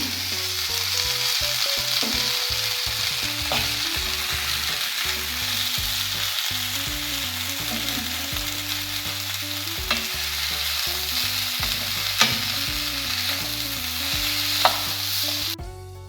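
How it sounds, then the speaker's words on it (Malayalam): Boiled cassava mashed into fried onions in a pan, a continuous near sizzle under rhythmic pressing and stirring scrapes with a faint tonal hum underneath, no voices. "നമുക്കിതിലേക്ക് ഈ കപ്പ ചേർത്ത് കൊടുക്കാം. നന്നായിട്ട് എന്നിട്ട് നമുക്കിത് പൊടിച്ചെടുക്കണം."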